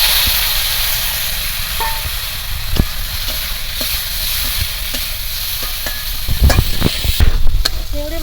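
Steady hiss of prawns frying in hot oil in a wok, continuous and close, with scattered clinks and a louder burst of crackling toward the end.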